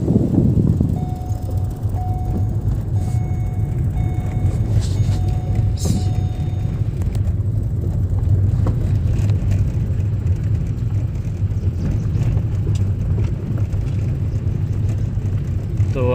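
A car with a sunroof rolls along a road in second gear with a learner at the wheel, its engine a steady low rumble that stays constant throughout, with no voices.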